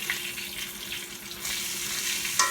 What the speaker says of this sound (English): you cook your curry first before you start adding it